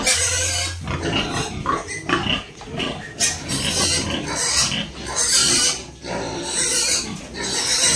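A pregnant gilt in a small backyard piggery grunts and squeals loudly and nearly without a break while being moved and tied with rope, close up, with rustling and handling noises mixed in.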